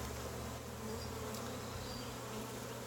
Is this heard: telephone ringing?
no